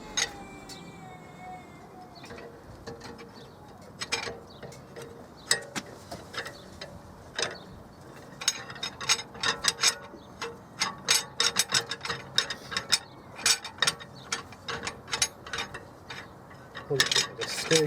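A ratchet screwing a bolt in during a wheel bearing replacement on a 2007 BMW E91 335i, with rapid clicking bursts in uneven runs that grow busier and louder, close by.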